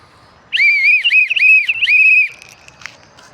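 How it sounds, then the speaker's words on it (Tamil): A loud pea whistle, used as a political party's election symbol at a campaign event, blows in a burst of several trilling blasts close by, then stops, leaving faint background noise. "விசில் சின்னம்"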